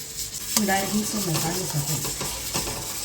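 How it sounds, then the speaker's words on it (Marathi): Basundi cooks in a pan while being stirred, with soft scraping strokes and a low bubbling sizzle close by, and faint voices in the background. "आणि इकडे चालू आहे बासुंदी करायचं"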